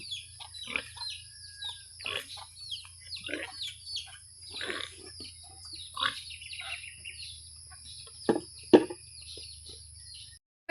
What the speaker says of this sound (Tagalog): May bawag sa baboy guys.